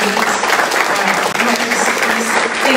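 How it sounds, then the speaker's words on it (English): A crowd at a city council candidate forum gives a loud, sustained round of applause, dense clapping throughout with some voices mixed in. "Can we get a big round of applause for"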